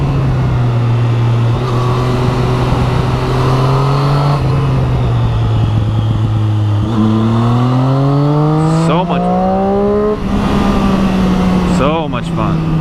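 A Triumph Street Triple 675R motorcycle rides around a lake, its engine humming steadily under wind rush with pitch climbing and dropping through gear changes, close and loud.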